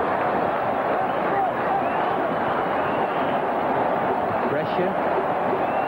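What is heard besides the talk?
cricket stadium crowd going wild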